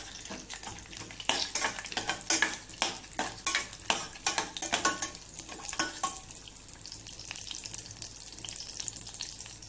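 Almonds frying in ghee for wheat kheer, a bright continuous sizzle broken by rapid rhythmic scrapes of a spoon stirring the pan, the stirring easing after a few seconds while the hiss carries on.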